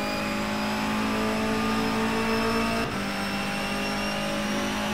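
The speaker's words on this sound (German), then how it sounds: "Sound von dem Auto finde ich persönlich extrem gut. Gefällt mir wirklich gut, also hört sich das klasse an." A Honda Civic NGTC race car in the rFactor 2 racing game at the Nordschleife drones at high revs with a steady, buzzing engine note, briefly dipping as it shifts before pulling on.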